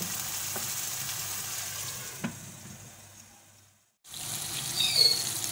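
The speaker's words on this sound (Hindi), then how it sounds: "इसको अच्छी तरह मैं भूनूंगी ताकि मसाला अच्छी तरह पक जाए।" Chicken masala frying in a covered pot with a little water for a dhaba-style murgh chana daal, giving a steady close sizzle that fades almost to silence before returning louder with crackling.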